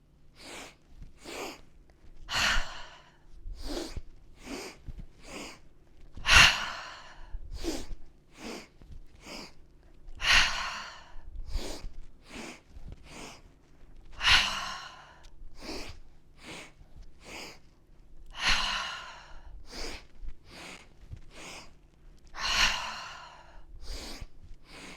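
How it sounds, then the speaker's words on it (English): Rounds of forceful yoga breathing, with strong exhalations pushed out through the mouth, come in a steady series of sharp, close bursts, some longer and fuller than others, each followed by a pause. "Exhale out the mouth, let all the air go"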